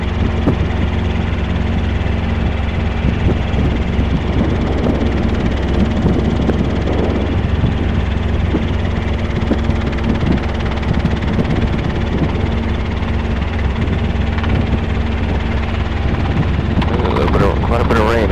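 A Robinson R22 helicopter drones steadily and loudly, its rotor and engine hum filling the whole stretch with little change, as if heard from inside the cabin.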